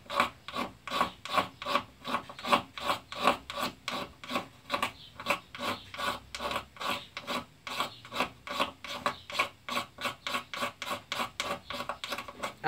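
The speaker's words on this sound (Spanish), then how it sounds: "si queremos raspar un poquito de esto" Steady, rhythmic rasping as shavings are scraped off with a ferrocerium rod setup, close and dry, repeating in quick even strokes for the whole stretch with no talk.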